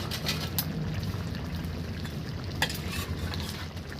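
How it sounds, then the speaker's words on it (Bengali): Fish pieces go into a pan of simmering ridge gourd curry, giving a steady close sizzle and bubbling with a couple of sharp clinks and splashes as they land. "এবার আমি মাছগুলো দিয়ে দেবো এবং সামান্য পরিমাণ ঝোল দেবো"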